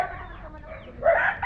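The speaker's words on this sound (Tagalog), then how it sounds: "May mga manok." Chickens cluck on a family farm in the Philippines, where gamecocks are bred for cockfighting; a few short, close clucks rise into one louder squawk near the end.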